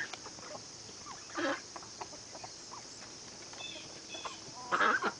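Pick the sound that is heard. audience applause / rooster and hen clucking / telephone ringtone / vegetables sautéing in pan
rooster and hen clucking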